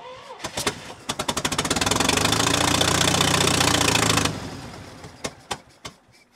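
An International Scout Terra engine cranks with a rapid, rhythmic churning, catches and runs roughly for a few seconds at close range, then dies back to scattered clicks and knocks.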